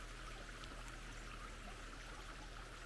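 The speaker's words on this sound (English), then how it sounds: "This is the water leaving the farm that arrive via the creek." Water trickling and flowing in a creek at the northern border of a farm in Andalusia, Spain, a steady, faint, even wash with no breaks and no voices.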